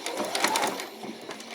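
A sewing machine back stitching fabric, its needle running in a quick, steady rattle for a short burst, close and clear.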